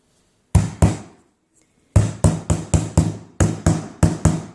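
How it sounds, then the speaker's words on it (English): Sharp hammer blows drive the small nails of a dollar-store sawtooth hanger into a canvas frame, two strikes, a pause, then a steady run of about nine evenly spaced, close, loud taps. "then I'm going to hammer that"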